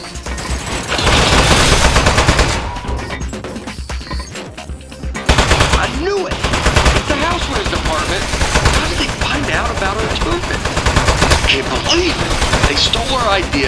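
Automatic turret gunfire in the video game Aperture Desk Job, loud rapid bursts of shots with a brief pause near the middle, then continuous firing over a noisy game soundtrack.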